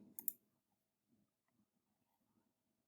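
A computer mouse clicking on a web page, two crisp, close clicks at the start, then a few faint soft taps in a quiet room.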